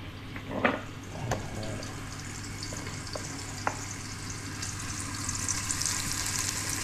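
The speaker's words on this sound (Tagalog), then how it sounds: "ginigisa ko po yung yung sibuyas" Onions sauté in a hot pan for papaitan, a steady close sizzle with scattered clicks of stirring and a low background hum, no talking.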